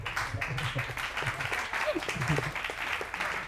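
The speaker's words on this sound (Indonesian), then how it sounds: "kita kasih tepuk tangan untuk Kak Rifandro dan Dika" Audience applause at an alumni sharing session, moderately faint clapping from a small group, steady throughout with some voices mixed in.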